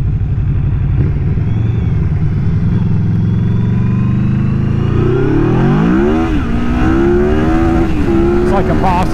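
A 2020 Yamaha Vmax 1700 motorcycle accelerates hard, its engine rising steadily in pitch over a sustained loud roar, with a voice briefly heard under the engine noise.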